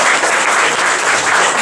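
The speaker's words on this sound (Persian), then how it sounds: "من خواهش می‌کنم تشویقشون کنیم." An audience applauds an honored colleague at an award ceremony for active staff, with steady, dense clapping that holds for the whole stretch and no voices over it.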